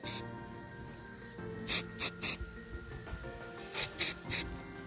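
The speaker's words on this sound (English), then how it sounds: "I'll give the sub a spray as well of white." Short hissing bursts of white spray paint on a scratch-built model submarine come in two groups of three quick puffs, close and crisp over a quiet background.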